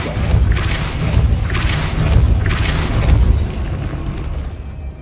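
The Depulso spell is cast in Hogwarts Legacy, giving a series of loud, booming magical bursts with whooshing rushes, about three heavy thuds in quick succession, close and forceful.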